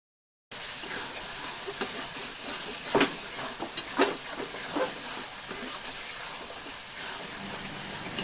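Spicy dried fish paste, shutki bata, sizzles and hisses steadily in a pan, with occasional clacks and scrapes of stirring, close and fairly quiet.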